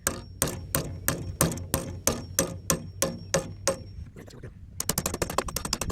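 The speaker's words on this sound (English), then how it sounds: "I'm going to try using a chisel with this gripped in a vise instead of just whittling" A chisel cuts into hydrofoil wing material gripped in a vise, producing a steady run of about a dozen sharp, evenly spaced taps, then a quicker flurry of strikes, loud and close.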